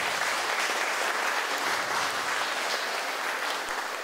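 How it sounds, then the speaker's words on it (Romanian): A crowd at a children's art contest award ceremony applauds the prize winners, a loud, continuous wash of clapping that holds steady at full strength from start to finish. "vă rog frumos să-i aplaudăm"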